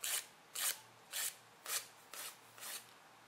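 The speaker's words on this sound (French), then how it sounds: "en faisant cette technique donc de l'extérieur vers l'intérieur, hein, sans faire des mouvements d'aller-venu, ça va limer beaucoup plus vite, plus fort" Fingernails filed with a nail file in one-way strokes from the outside inward: six evenly spaced, close rasping strokes, each a short bright scrape about half a second apart, with no talking.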